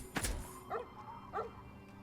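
A dog sound effect in Fallout: A Tale of Two Wastelands gives one sharp bark followed by two softer yips, moderately loud against a low game background hum.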